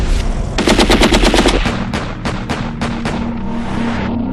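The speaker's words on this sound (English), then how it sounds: "The Israeli aims his Kalashnikov. The machine gun doesn't come with a silencer." Kalashnikov machine gun firing without a silencer in an airport, a loud rapid burst of shots followed by sparser single reports that echo and fade.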